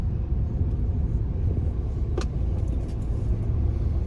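Cars pass along a road at Padamugal in a steady low rumble of traffic, fairly close and without voices.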